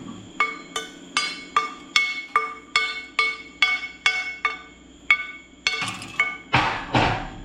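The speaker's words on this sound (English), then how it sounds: "I could probably get the slag off this pretty easy." Plasma-cut steel is knocked with a hammer to break off slag, making about fifteen sharp ringing metallic strikes in a steady rhythm that quicken into a brief scraping flurry near the end, close and alone.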